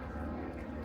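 A fighter plane flies overhead at the Cosford Air Show, a steady, dense engine roar that holds evenly throughout the brief moment without breaks.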